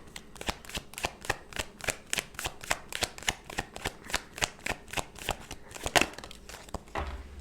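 Oracle cards are shuffled close by in a quick, steady run of about two dozen crisp riffling snaps with no voices, then a faint low rumble comes in at the end.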